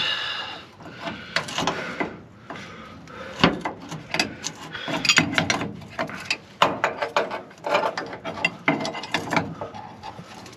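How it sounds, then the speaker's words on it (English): A wrench works a fuel filter fitting on a 1996–1998 Chevrolet C1500 pickup, giving close, busy metallic ratcheting, clicks and scraping in irregular bursts for about ten seconds, with no talk. "Hopefully it's going and not rounding off the wrench again, or the fitting."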